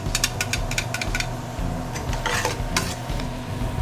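Onions tip into a cooking pot with a short clatter and scrape of utensils against the pot, followed by soft stirring noises, close and fairly quiet.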